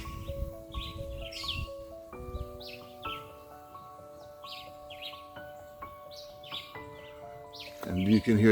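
Birds singing beside a stream in Jamaica, repeated clear whistled calls and chirps over a soft steady background, with a few sustained tones and a louder rustle at the very end.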